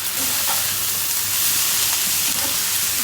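Black cumin seeds tempering in hot oil in a pan for frying watermelon rind, a steady loud hiss and sizzle that carries on without a break.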